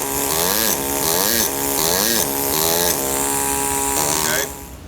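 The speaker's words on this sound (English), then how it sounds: "Listen to the tone of the stone with the hand machine running." Hand-held power tool running against marble while carving a stone cross, a loud steady buzzing whine with a pitch that rises and dips repeatedly as it bites, close, then cutting off near the end.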